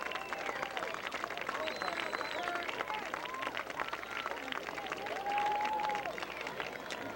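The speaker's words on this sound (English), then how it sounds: "another round of applause for this year's seniors and their parents" Crowd in the stands at a 1998 Haslett vs. Gaylord high school football game applauds for the senior class and their parents, a steady, moderately distant wash of clapping and murmur, with the marching band's sounds mixed in.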